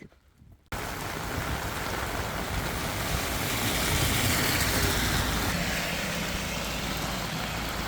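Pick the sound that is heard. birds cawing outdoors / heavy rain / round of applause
heavy rain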